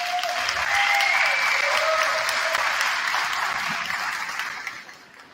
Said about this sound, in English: how about a big round of applause for Eric Burns?